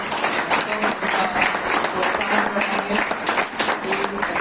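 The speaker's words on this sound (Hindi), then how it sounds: "और विशेष रीति से सारे यूथ के लिए भी एक अच्छी सी ताली बजाएंगे" Applause from a church congregation for its youth after a Good Friday program, a steady wash of clapping through the whole stretch with faint voices and tonal sounds mixed in.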